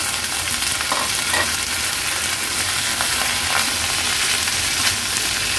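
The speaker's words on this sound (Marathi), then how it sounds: "आता आपण ही पडवळ जी चिरून घेतलेली ती ऍड करूया" Chopped snake gourd hits a hot tempering of chillies and curry leaves, sizzling and crackling steadily and close up, with occasional stirring and no talk.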